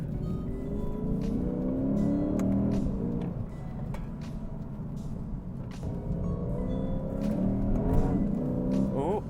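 A 2024 Lexus IS 500 F Sport rear-wheel-drive V8 sedan accelerating hard, engine note rising and falling through gears from inside the cabin, loud and continuous with a brief dip midway.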